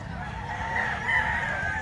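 A Kanawayan gamefowl rooster at a poultry sale in Lipa, Batangas lets out a single clear, nearby crow that rises and holds, with faint voices in the background.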